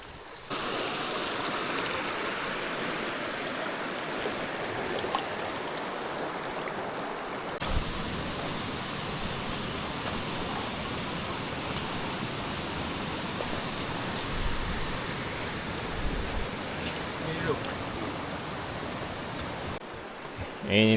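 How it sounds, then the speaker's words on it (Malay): A river stream rushes at the confluence of the Tahan and Teku rivers on the Gunung Tahan trail near Kem Teku, a steady close wash of flowing water with no break in its level. "Inilah dia persimpangan dua sungai."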